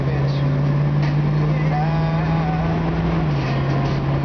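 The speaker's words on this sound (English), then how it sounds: "I don't know if you can hear that transmission." A 1966 Ford Mustang convertible with a rebuilt 289 V8 and original carburetor drives along, giving a steady low engine drone with road noise that dips slightly near the end, close and continuous.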